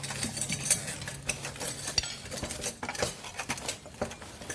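Cutlery clinks and scrapes against plates during a home meal, small irregular metallic taps and clatter close by, with no talk.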